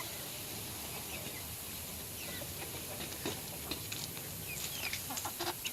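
Hens and young chicks cluck and peep while being fed watermelon, scattered soft calls growing busier toward the end over a steady outdoor hiss.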